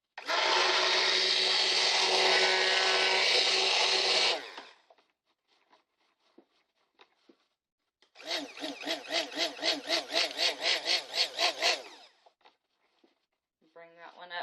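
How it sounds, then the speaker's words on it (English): A stick blender whirs through soap batter for a goat's-milk oat soap, running steadily in a loud burst of about four seconds, then pulsing in short rhythmic bursts after a pause, with faint clicks and taps between. "I have my stick blender ready to go."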